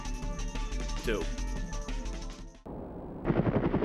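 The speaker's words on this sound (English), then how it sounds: "Shoot her until she dies." Rapid machine-gun fire bursts loudly in The Operative: No One Lives Forever on PS2, a continuous rattling stream that cuts out briefly and then resumes as another dense volley, layered with game music and effects.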